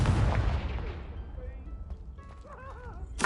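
The Confringo spell fires in Hogwarts Legacy, its explosion arriving as a loud boom that decays into rumbling debris, followed by chiming magical tones and a sharp burst at the end.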